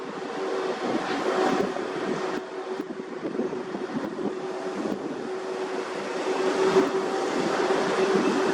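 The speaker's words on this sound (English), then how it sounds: "It's a very windy day here." A steady roar of strong wind buffeting outdoors at the SpaceX Starbase main gate, Boca Chica, Texas, broad and continuous with gusty swells and a faint low hum beneath.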